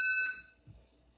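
A workout timer gives a short electronic beep at the start, then fades to near silence with faint room noise.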